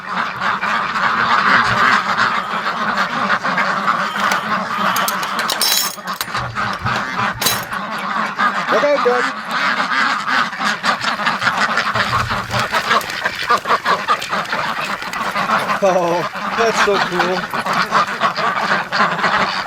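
A flock of ducks and Canada geese quacks and honks continuously up close, a busy overlapping chatter of calls, while people talk briefly over it.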